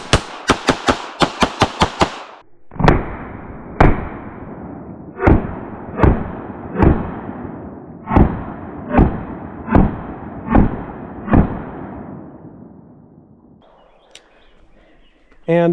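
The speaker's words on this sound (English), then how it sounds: "I'm going to bring it out, fire a couple shots from here" A Smith & Wesson Bodyguard 2.0 pistol fires ten loud, close shots outdoors, first a rapid string of cracks, then slower evenly spaced single shots, each ringing out briefly before the next.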